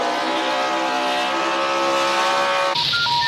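Several NASCAR race car engines running together in a loud, sustained, buzzing drone, close and continuous, ending with an abrupt cut to electronic tones.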